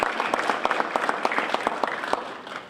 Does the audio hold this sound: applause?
yes